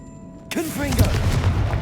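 Confringo fire spell blast in Hogwarts Legacy, a loud booming explosion with crackling burst and rumbling tail in a catacomb battle, with a shouted voice and whooshing effects around it.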